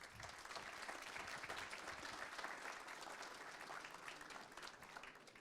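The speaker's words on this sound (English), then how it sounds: "The applause is not for me, it's for you." An audience at a conference applauds, a steady, dense wash of many hands clapping that stays even and sustained for several seconds without anyone speaking over it.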